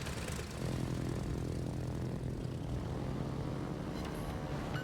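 Carrier aircraft fly in World of Warships, their propeller engines holding a steady drone that begins at about half a second and continues at an even level to the end, with no talk.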